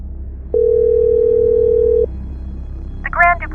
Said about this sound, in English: The phone rang twice before it was answered by a cold,